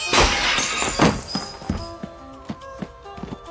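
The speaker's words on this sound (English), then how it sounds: "Then a sudden sound of glass shattering filled the room" A glass coffee table shatters indoors, a loud crash at the start followed by scattered tinkling and clinking of falling shards that thin out.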